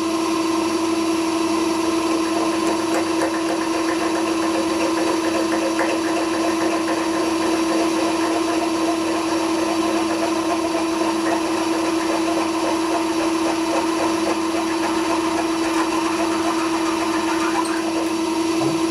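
A steady, loud mechanical whine drones without pause, a power drill running continuously close by while working on a seized plug, with a constant hum throughout.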